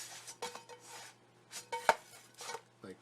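A chicken quesadilla is flipped in a pan: a series of light metallic clinks and scrapes of utensil on pan, with one sharper clank, quiet and sparse.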